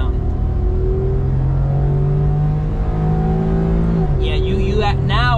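A Honda Z kei car engine accelerating at full throttle, a loud, close, rising drone that climbs steadily in pitch, then drops briefly as it shifts before climbing again, with no talk over it.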